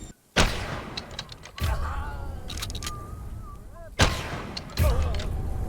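Several loud gunshots go off in the video game Choo Choo Charles, separated by gaps, with a voice talking between them.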